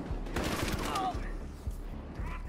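Gunfire in the video game Battlefield Hardline: a cluster of sharp shots in quick succession, fairly faint and mixed with game noise, with a few further scattered shots afterward.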